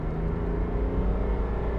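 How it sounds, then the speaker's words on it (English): Engine of a 2021 GMC Sierra AT4 Carbon Pro 3.0 truck on the road under light throttle, a steady low droning hum with tire and road rumble, no voices. "Hear that engine doing its thing"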